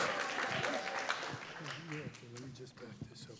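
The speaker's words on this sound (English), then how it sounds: "We'll clap again." Graduation audience clapping for the respiratory therapy class of 2023, a broad crowd applause that fades over a few seconds while voices talk and cheer over it.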